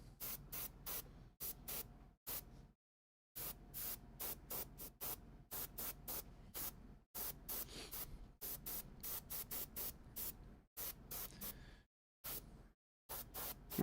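An airbrush sprays thinned metallic paint onto miniatures in a series of short hissing bursts separated by brief silent gaps, close by and faint, with no voices.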